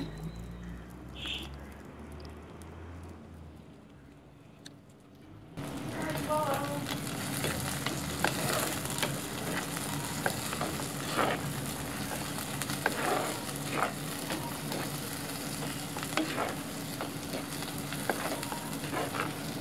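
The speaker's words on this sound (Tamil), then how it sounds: "இப்போ வெங்காயம் பார்த்திங்கன்னா நல்லா வதங்கிட்டு" Small shallots, green chilies and curry leaves sauté in a pan for a Jaffna-style cuttlefish curry, a dense steady sizzle with scattered crackles that starts abruptly after a few quieter seconds and keeps going.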